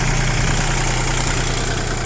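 A Japanese ISEKI TU220 compact tractor engine idles steadily, a close, even low rumble with a constant vibrating hum.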